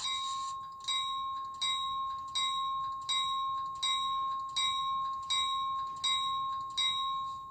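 Electronic bell of a Rapido Trains Amtrak NPCU cabbage model locomotive, a bright metallic ding repeating evenly about every half second to three-quarters of a second, clear and close with nothing else over it.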